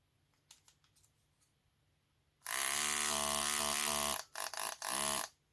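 A NUK electric breast pump motor runs with suction: soft clicks, then a loud steady tonal buzz for about two seconds, followed by several short on-off bursts.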